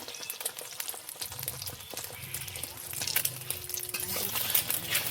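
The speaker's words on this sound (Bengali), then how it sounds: "দেখুন বন্ধুরা, আমি এইভাবে ভেজে নিয়েছি।" Chicken chowmein fries in a pan, giving a steady, close sizzle with scraping and stirring noises throughout and a faint low murmur underneath.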